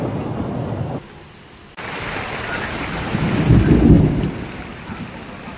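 Heavy rain pours steadily during a thunderstorm, with a deep rolling rumble of thunder swelling in the middle; the downpour is loud and continuous, briefly dipping before returning.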